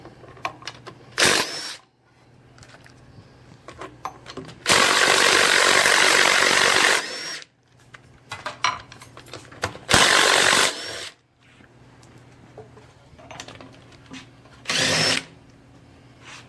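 A power tool or ratcheting socket wrench works on motor mount bolts while a motor is removed, sounding in several separate loud bursts of whirring and clicking with quieter handling noise between them.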